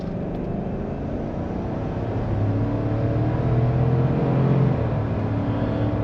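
A 2024 Chevrolet Tahoe RST with a 5.3L V8 and AWD accelerates from the cabin, its steady low engine drone swelling in pitch and loudness as the throttle opens, with no talk over it.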